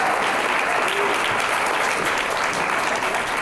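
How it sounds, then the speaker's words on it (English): A banquet audience at a student honors dinner applauds a man stepping forward, a full room of steady, sustained clapping with no break. "Let's applaud John."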